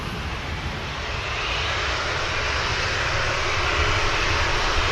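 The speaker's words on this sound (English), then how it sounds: "Let's see if this Emirates 350 is going to take the full length down Tango." Emirates Airbus A350 airliner rolling on a runway at Manchester Airport, a steady, loud broadband engine roar that builds slightly over five seconds with no talking.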